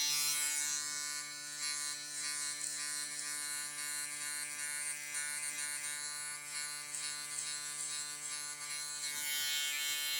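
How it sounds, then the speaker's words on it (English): Instinct X hair clipper with a vector motor buzzing steadily and close while cutting hair during a high taper haircut, a constant harmonic drone running nearly unbroken before cutting off near the end. "Part of the reason why I like using this Instinct X clipper is because of the vector motor."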